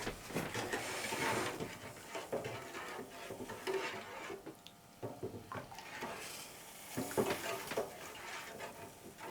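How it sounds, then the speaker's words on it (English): A leftover natural dye solution with added alkali gets a quick stir, close and soft, with liquid swishing and light knocks of the stirrer against the container in uneven bursts. "And give that a quick stir."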